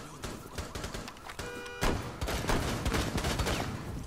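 Gunfire in the video game Rainbow Six Siege: dense bursts of shots and clattering impacts crackle throughout, growing louder near the middle and staying busy to the end, with game sound effects mixed in.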